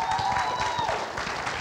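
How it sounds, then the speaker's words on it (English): A church audience breaks into brief scattered applause, the crowd's clapping fairly soft and mixed with murmuring voices. "Y'all clap every sentence I say"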